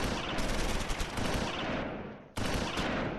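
Heavy gunfire from a tank in the Close Combat IV World War II strategy game: a dense, loud burst of booming and rattling shots that cuts off, then resumes abruptly.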